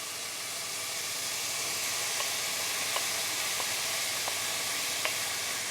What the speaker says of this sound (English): I'm gonna add my mushrooms in now as well.